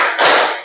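A classroom group claps a quick two-beat pattern in unison. One brief, loud burst of many hands rises and trails off, close and unaccompanied by talk.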